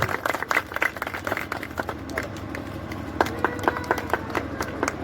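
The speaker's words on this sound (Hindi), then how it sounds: "एक बार जोरदार ताली बजा दीजिए आप लोग।" An audience at an outdoor village ceremony in Bihar claps in a loose, scattered patter, with brief louder bursts, and voices murmur in the background.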